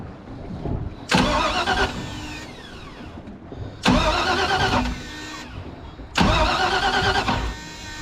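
A Ski Centurion boat engine is cranked three times in bursts of about a second, each starter whir loud and close with a grinding tone, separated by quieter pauses, failing to catch.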